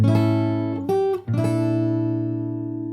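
Fingerstyle acoustic guitar playing a short passage of the Animal Crossing New Horizons theme: a ringing chord, a brief change with a quick slide, then another sustained chord, close and alone.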